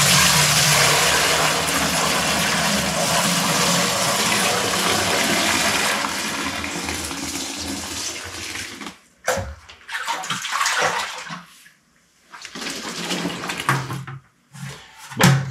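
Kombucha pours into a keg as a loud, continuous rush of liquid for several seconds, then stops and gives way to scattered clunks and handling noises.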